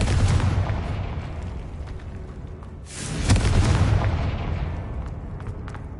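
A Confringo fire spell in the Hogwarts Legacy video game bursts with a loud, booming explosion, followed by a second heavy blast and a long rumbling tail.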